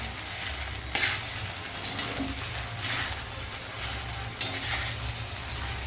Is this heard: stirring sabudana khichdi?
yes